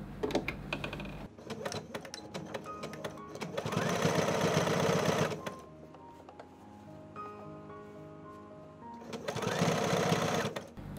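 A sewing machine stitching a blouson with extended sleeves, running in two loud bursts of rapid needle clatter separated by a quieter pause with faint handling noises.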